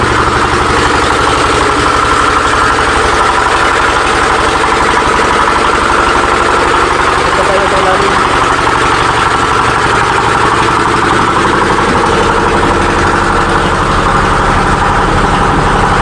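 A loud engine idles steadily and continuously, a constant low mechanical rumble with vibration and no voices.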